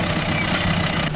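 A vehicle engine idles steadily with a low, even rumble for about a second, fairly quiet and with no voices over it.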